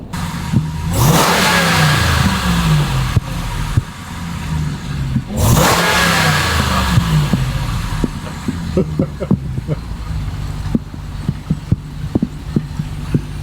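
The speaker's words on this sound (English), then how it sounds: "Welcome to our real pickup truck." A pickup truck engine revs hard twice, each surge climbing and falling back, then settles into a rough idle broken by faint clicks and knocks, heard loud and close.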